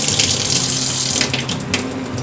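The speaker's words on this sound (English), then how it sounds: "So with cool running water," Cool water runs steadily from a sink faucet over a leek being rinsed of grit, a continuous close splashing gush with slight shifts in texture as the stream hits the vegetable.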